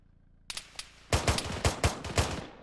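Suppression gunfire in the military shooter ArmA 3, a quick series of loud rifle shots after a couple of fainter pops, roughly seven sharp cracks in an uneven burst, close and with no talk.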